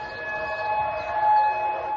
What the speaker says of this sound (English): Sirens blared in Kuwait